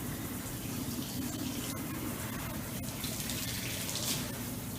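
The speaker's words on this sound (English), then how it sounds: "I like to get hot water just to kind of expedite the process" Hot water runs steadily from a kitchen tap, probably into a pot for cooking cilantro brown rice, making a continuous rushing, splashing stream at close range with no talk over it.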